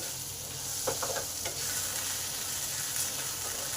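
Potatoes with salt and turmeric are stirred in a frying pan over a soft, steady sizzle of oil, with a few light scraping clicks from the spoon. The sound stays low and even throughout, and nobody speaks.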